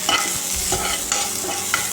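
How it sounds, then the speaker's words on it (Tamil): Onions and green chillies frying in a pan, a continuous close sizzle with repeated stirring scrapes, steady and fairly loud. "இப்போ ஆனியன் நல்லா வந்து ஃப்ரை ஆகட்டும்."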